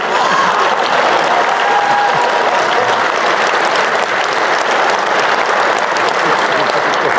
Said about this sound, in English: A big round of applause for the Timu